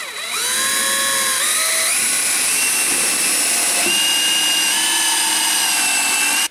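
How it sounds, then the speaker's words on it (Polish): A slightly dull drill bores into a furniture board to make a hole for a confirmat screw, giving a loud, steady high-pitched whine that rises and shifts as the bit cuts, running continuously throughout. "i wiercimy."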